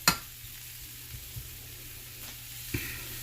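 Quiet sizzle of chicken frying in a pan with no oil, with a few soft clicks and taps of cooking utensils scattered over the hiss.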